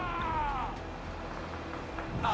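A cat meows in a fantasy role-playing video game, a couple of drawn-out, wavering cries rising over steady game music and ambient background, fairly close and clear.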